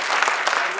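Audience applause after the host asks for a show of hands at a stage programme, a dense wash of clapping filling the whole short stretch at steady loudness.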